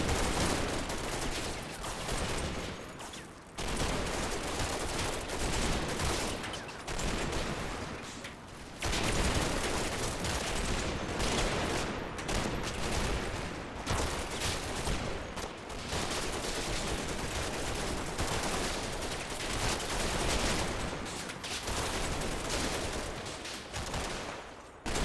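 Dense battle gunfire in the Combat Mission game during Operation Epsom, continuous rattling bursts and overlapping shots forming a loud, almost unbroken wall of combat noise with only brief lulls.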